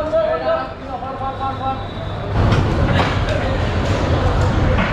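A train pulls out from Sylhet bound for Chittagong, its low rumble and rhythmic clatter swelling loudly after a quieter start, with people talking on board over the noise.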